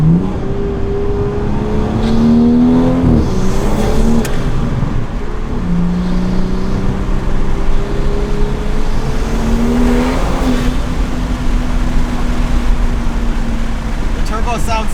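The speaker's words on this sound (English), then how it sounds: "The turbo sounds so good." Turbocharged car accelerating hard from inside the cabin, a loud sustained engine roar climbing through the revs with gear changes and turbo whine, continuous throughout.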